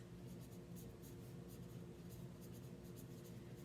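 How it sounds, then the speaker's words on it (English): A pen writes fall leaves and initials on the back of a canvas transfer, a steady soft scratching that runs continuously and close up throughout, with no talking over it. "I'm just gonna write fall leaves."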